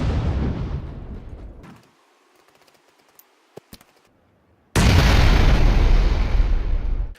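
Grenade blasts in PUBG Battlegrounds: a long, loud roaring explosion fades out, a few faint sharp pops follow in near silence, then a second heavy, broad blast erupts and sustains to the end.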